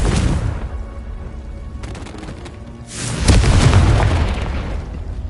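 Spell explosions from Hogwarts Legacy, the Confringo fire spell among them: loud booming blasts with crackling bursts, a dense rumble building over several seconds, the heaviest blast near the end.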